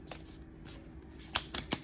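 A deck of playing cards is shuffled by hand, a soft riffling flutter followed by a few sharp snapping riffles close up, with no talk.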